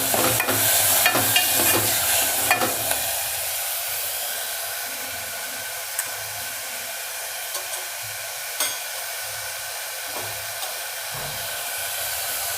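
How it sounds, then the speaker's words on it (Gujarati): Fenugreek greens sizzle and crackle in hot oil, a steady frying hiss with occasional clinks and stirring scrapes close by. "પેલા તેલમાં તેલમાં ફેરવી લેવાની ભાજી"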